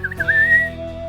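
Children whistle a short, rising melodic phrase in imitation of birdsong. The single whistled call is clear and close, sliding upward and then holding steady over a quiet background.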